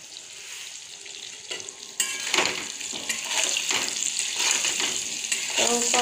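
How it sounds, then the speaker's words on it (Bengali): Pointed gourd and potato pieces fry in a pan, a steady hiss of sizzling oil broken by scraping stirs and clinks of a spatula, close and continuous. "তো পটলটা আমি মোটামুটি হালকা ভেজে নিয়েছি, পটল আর আলুটা।"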